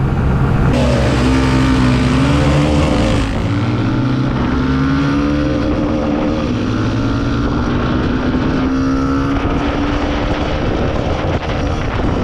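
A TVS Raider 125 motorcycle engine drones loud and close in fifth gear, its pitch climbing steadily as the bike accelerates, with heavy wind rush and no talking.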